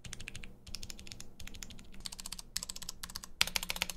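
Rapid, dense keystrokes on a $300 custom computer keyboard in a gaming setup, clattering steadily in quick bursts with short pauses, close and fairly loud, with no talking.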